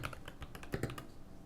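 Typing on a Keychron V1 mechanical keyboard fitted with PBT double-shot keycaps, producing a quick run of soft, close clacks in an uneven rhythm with no talking.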